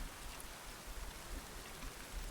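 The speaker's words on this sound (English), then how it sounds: "Yeah, the rain is not good timing." Steady rain falls in The Witcher 3, a soft, even hiss of drops at low volume with no voices over it.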